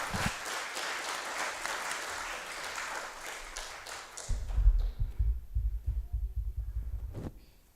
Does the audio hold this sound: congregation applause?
yes